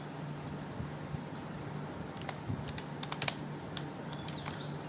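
PHP code being typed on a computer keyboard: quiet, irregular bursts of keystrokes clatter over a faint steady background hiss.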